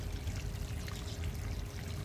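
Water pours onto sandy garden soil while plants are being watered, a steady low rushing trickle at moderate loudness, close by and free of talk.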